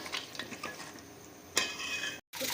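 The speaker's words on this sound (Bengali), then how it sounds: "এবার আমরা ঢাকা দিয়ে দিয়ে এই মশলাটাকে খুব ভালোভাবে কষিয়ে নেব।" Mutton masala fried and stirred in a pan, a soft sizzle broken by spoon scrapes and a sharp clatter, then a brief silent gap before the frying resumes.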